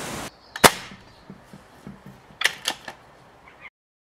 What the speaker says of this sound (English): I'm now going to test the power by firing another 10 of those Bisley practice pellets over the chronograph.